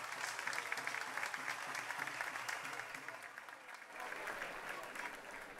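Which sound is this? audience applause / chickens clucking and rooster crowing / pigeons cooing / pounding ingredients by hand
audience applause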